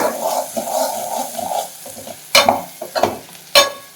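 Goat blood and intestine frying in a pan, a steady close sizzle broken by several sharp scraping stirs of a spoon against the pan in the second half, with no voices.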